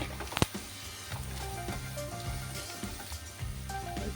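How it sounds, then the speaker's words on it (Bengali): Mixed vegetables with cabbage are stir-fried in a pan for fried rice, a soft continuous sizzle with light stirring under quiet background music. "একটু নাড়াচাড়া করে নিচ্ছি সবজিগুলো সামান্য ভাজা ভাজা হবে"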